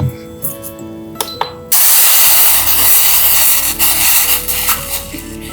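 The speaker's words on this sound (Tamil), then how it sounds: "இப்போ நம்ம ஒரு பாத்திரத்தில் கொஞ்சம் நீர் விட்டு கொதிக்க வச்சுக்கலாம்." Water goes into a cooking pot for boiling, a loud steady gushing hiss that starts abruptly after a few light clinks and carries on close by with no one speaking.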